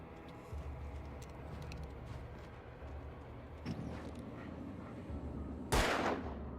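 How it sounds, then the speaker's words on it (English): A single loud gunshot cracks out near the end, fired at an electrical wire in the video game Alan Wake, standing sharply above a steady low ambient rumble. "Maybe I can just shoot off a wire."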